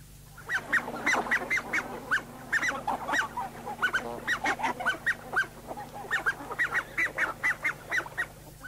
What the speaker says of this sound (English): Red-breasted goose.